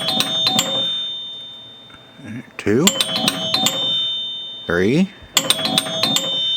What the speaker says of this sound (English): Chimes sound a little